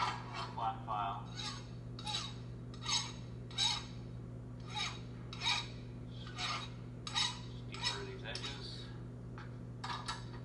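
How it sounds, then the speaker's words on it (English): A flat file is drawn across the edges of a machined part to deburr them, making a regular series of short metallic rasping strokes against a steady machine hum. "Go ahead and deburr these edges on the part. So I would just grab my flat file,"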